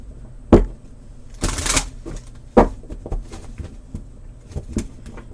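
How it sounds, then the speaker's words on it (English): Tarot cards pulled from a deck and laid down: scattered soft slaps and sliding rustles with a brief shuffling burst, close and fairly loud, with no talk. "So let's pull some more cards."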